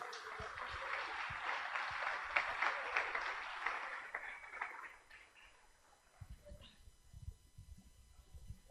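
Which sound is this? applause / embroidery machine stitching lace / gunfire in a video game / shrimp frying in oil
applause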